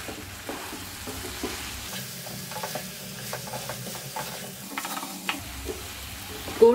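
Duck pieces fry with coriander and other spices in a pan, a soft sizzle under repeated close stirring and scraping, with a louder clatter at the end.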